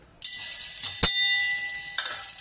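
Washed moong dal frying in ghee in a bronze pot gives a steady bright sizzle that starts abruptly, with a sharp clink of a utensil against the metal midway and a faint stir near the end.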